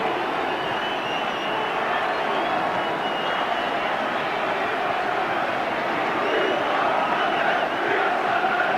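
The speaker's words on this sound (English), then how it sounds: "So as the teams are applauded onto the pitch" A large football crowd at Sunderland's FA Cup fourth round tie against Tottenham Hotspur applauds and roars as the teams come onto the pitch, a dense continuous wall of distant cheering and clapping that swells slightly toward the end.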